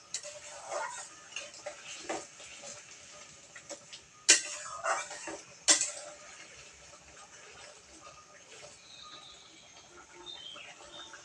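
Spiced masala with sour yogurt being stirred in a pan for a coconut-wrapped koi fish dish, heard as soft scraping ticks with a few sharper spatula knocks against the pan, quiet and close with no talking.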